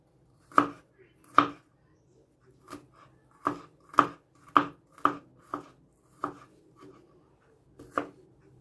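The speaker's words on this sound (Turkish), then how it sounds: "Sarımsaklarımızı da küçük küçük doğrayacağız." A knife strikes a cutting board in a steady series of crisp, separate chops as garlic is finely diced, close up with brief pauses between strokes and no talking.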